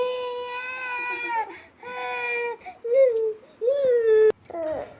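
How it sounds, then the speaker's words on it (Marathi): A little girl cries after a fall, wailing in long, strained sobs with short gasping breaks and whimpers between them, close and loud. "पडली पडली का लागली रडायला"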